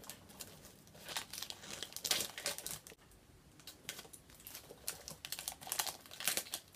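Perfume packaging wrap is cut and torn open, giving close, continuous crinkling and crackling with a brief pause partway through.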